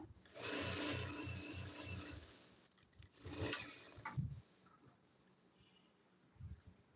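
A sewing machine stitches a six-cut kameez in short rapid bursts of mechanical whirring and rattling, pausing between runs, with faint clicks and handling noises in the quieter stretches.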